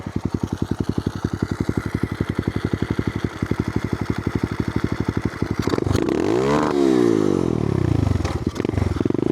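A small single-cylinder Amazon pit bike engine runs close and loud, its exhaust pulses chopping rapidly as it bangs against an adjustable rev limiter, then the pitch sweeps up and down as the throttle changes; no talking.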